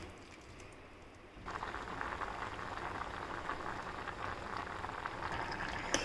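Pumpkin soup vegetables simmering in water in a pot, a steady bubbling and spattering that jumps up in loudness after the first second and keeps up evenly and fairly close.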